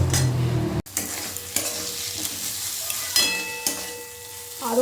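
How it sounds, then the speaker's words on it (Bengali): Googli snails are stirred and fried in a pan, giving a soft steady sizzle with a sharp clack near the start and a few scraping strokes of a spoon, no talking. "খুব ভালো করে কষে নিতে হবে এই গুগলি"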